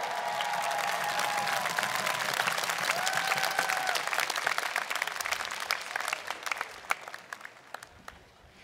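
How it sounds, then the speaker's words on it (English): Outdoor crowd applause at a Black Lives rally, a full sustained wave of clapping and cheering with a few voices calling out, gradually dwindling to scattered claps by the end. "Give yourselves a round of applause."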